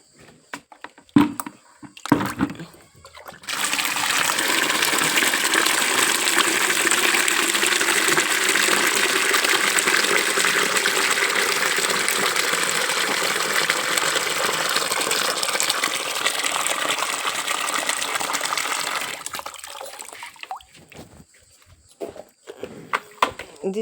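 Water gushes steadily for about fifteen seconds as it is poured out for an animal to drink, a continuous loud rush with brief clatter and a voice before and after.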